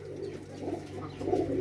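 A domestic pigeon coos in soft, low, repeated throaty phrases, close by and alone, with a faint steady hum underneath.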